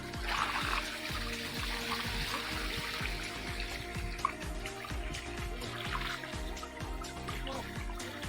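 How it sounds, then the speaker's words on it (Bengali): Water draining and dripping off soaked produce brought out of a tank on a farm, a continuous close trickle and patter over a steady low hum, with faint voices in the background. "জলটা যাতে পুরো ঝরে যায়"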